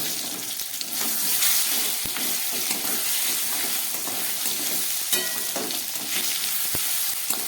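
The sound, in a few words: green banana pieces frying in sizzling spice paste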